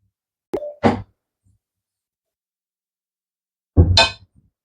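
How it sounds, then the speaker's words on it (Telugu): A metal lid goes onto a cooking pot of simmering lentil-dumpling curry: a couple of quick clanks near the start, then a longer metallic clatter after a silent pause, close up with no speech. "ఇప్పుడు మూత పెట్టేద్దాం."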